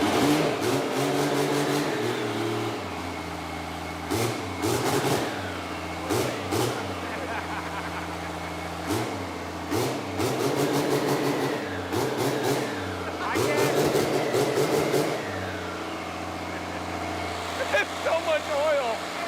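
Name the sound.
diesel-swapped Torino wagon engine revving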